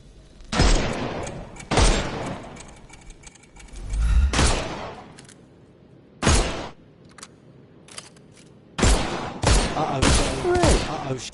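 Video game gunfire: heavy bursts of shots arriving in separate clusters with short gaps between them, loud and close, plus a brief low boom near the middle and a few isolated single shots toward the end.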